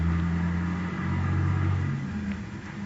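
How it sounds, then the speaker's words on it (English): A car with only one headlight working comes down a hill, its engine a steady, close rumble with a low droning hum that holds evenly and swells slightly midway. "There's a car coming down the hill toward us."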